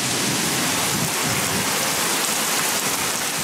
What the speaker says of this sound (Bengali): ভাদ্রের শেষ দিনে মুষলধারে বর্ষণ।